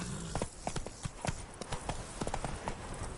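The horse Roach trotting in The Witcher 3: brisk, regular clip-clop of hooves on hard ground, fairly quiet and close, with a quick uneven rhythm throughout.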